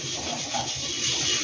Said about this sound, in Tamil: நம்ம நார் வச்சு அந்த ஹீட்லேயே தேய்க்கணும்